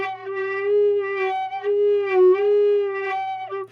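A Native American flute played with its bottom hole not fully covered gives a wavering, unsteady tone with a faint hum beneath, close by and on its own.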